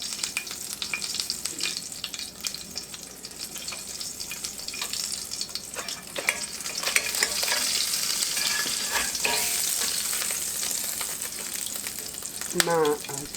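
A breakfast crunch wrap filled with melted mozzarella browns in a pan, giving a continuous loud frying hiss with faint clinks and a brief watery trickle, while a muffled voice sounds now and then.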